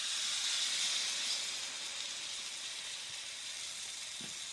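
Orange sauce hits a hot skillet of tofu and sizzles hard, a loud, close, broadband hiss that eases slightly but continues steadily with no talking.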